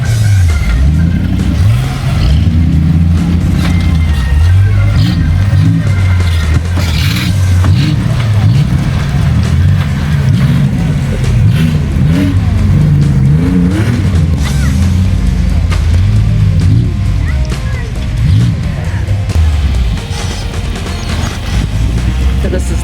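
An off-road truck on an Ultra4 4x4 course churns on a loud, sustained engine drone with rising and falling revs, along with knocks and crashes, while people talk and shout over it.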